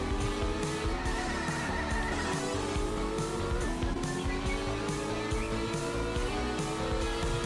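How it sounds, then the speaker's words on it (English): Car drifting sideways on a drift stage in a racing video game, engine revving hard with rising and falling pitch and continuous tire squeal, loud and steady throughout with no talk. "we have to drift sideways and fit our sideways facing vehicle in between the edges here"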